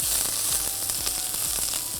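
Onion frying in mustard oil makes a steady, close sizzle, with faint scrapes of stirring running under it and no talking.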